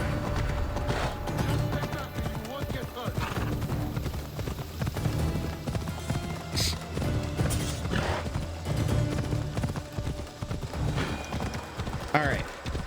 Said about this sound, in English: Don't worry, the horse is fine.